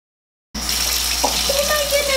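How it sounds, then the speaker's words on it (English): Shower water runs steadily over a plush toy during a shower test, a continuous close splashing hiss starting after a brief silence, with a faint tonal squeak partway through. "Let's go for the shower test here, shall we?"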